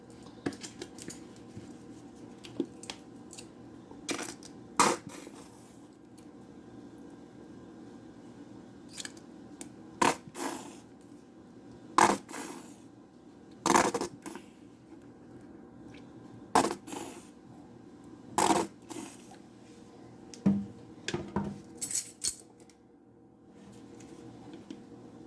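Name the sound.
mixing deviled egg filling with cheese and mustard in a bowl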